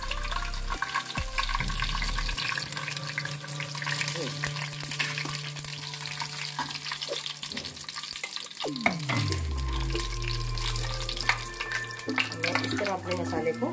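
Cumin and fenugreek fry in hot oil for a spiced potato curry, a continuous loud sizzle with stirring and a faint background hum, and a voice talks now and then.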